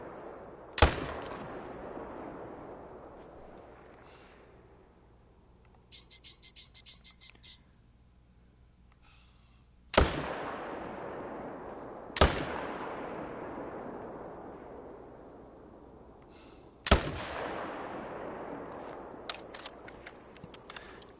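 Rifle gunshots in the hunting video game theHunter: Call of the Wild, four sharp loud cracks spaced several seconds apart, each trailing off in a long rolling echo, with faint ambient clicks in between.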